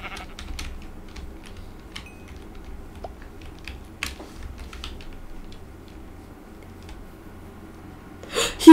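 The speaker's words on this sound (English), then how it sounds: "Brown sheep." Minecraft sheep bleats sound faintly over scattered keyboard and mouse clicks, with a louder bleat near the end.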